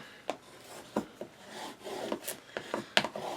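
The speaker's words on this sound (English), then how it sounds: "Burnish those on there." Paper pieces burnished onto the spine of a shaker album, giving soft close rubbing and scraping strokes with a few sharper ticks, fairly quiet and with no voice.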